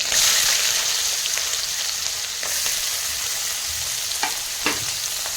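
Chopped green chilli and onion frying in a pan for homemade chowmein, a loud continuous sizzle broken by a few sharp scraping stirs near the end.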